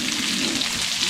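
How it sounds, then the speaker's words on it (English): Bacon sizzles in a pan at a campsite on a morning by Carter Lake, a steady, close crackling hiss that continues evenly throughout with no talk. "Always worth hearing the sound again of sizzling bacon on a"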